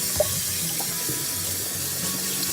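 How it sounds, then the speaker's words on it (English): Canned beans being rinsed in a strainer under a running kitchen tap, a steady close hiss and splatter of water with a faint metallic clink near the start, no talking. "And I'm just going to rinse these off."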